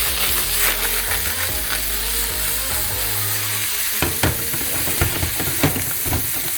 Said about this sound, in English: we're going to stir these around and let them saute for a little while.